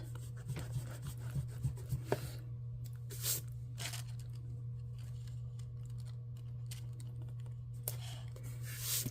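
Faint papery crinkling and a soft tearing peel as a planner sticker is lifted off its backing sheet, close and quiet over a steady low electrical hum, with no talking.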